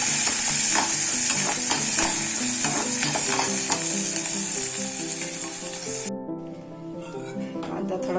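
Onion frying in a pan at home, a few tomato pieces dropped in with it, giving a steady close sizzle with stirring scrapes, cutting quieter and thinner toward the end.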